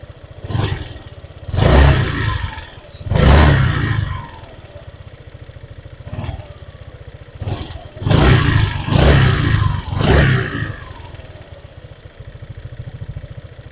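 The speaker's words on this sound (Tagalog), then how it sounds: "So ngayon, try natin yung tunog ng naka-open pipe na," A Honda PCX 150 scooter fitted with an Akrapovic open exhaust pipe idles with a low burble, then revs in several short, loud blips, some in quick succession, each dropping back to a steady idle.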